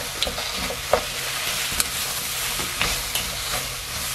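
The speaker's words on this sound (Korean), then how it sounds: "여기다 참기름을 한 스푼만 넣고 볶아주겠습니다" Spam and zucchini stir-fried with a spoonful of sesame oil, a continuous close sizzle punctuated by regular scraping strokes of a spatula against the pan.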